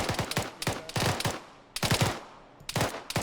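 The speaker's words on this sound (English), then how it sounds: "Get a steady rate of fire going down now. Continue firing." Automatic rifle fire in the military shooter Arma 3 during a milsim patrol, bursts of rapid cracking shots in uneven clusters, loud and close with brief gaps between volleys and no talk.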